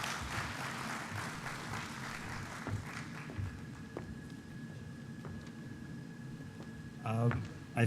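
Audience at a conference clapping, a spread of scattered hand claps under a speaker's voice, moderately faint, ending in a brief louder burst of applause.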